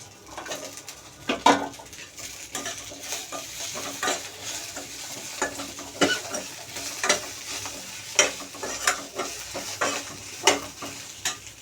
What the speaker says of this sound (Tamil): வெங்காயத்தை போட்டு லைட்டாக வதக்கிடலாம்.